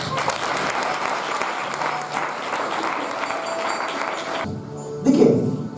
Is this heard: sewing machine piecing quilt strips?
no